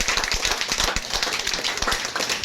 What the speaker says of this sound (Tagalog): Malakas na palakpak sa Diyos.